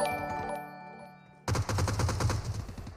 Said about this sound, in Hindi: मीनवाइल 8 बिट राइजर ऊपर विंडो से शॉट देता है